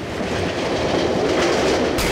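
A train rolls along steadily in the horror video game Cry of Fear, its carriage rumble and clickety-clack running loud and continuous with no voices, as if heard from inside the car.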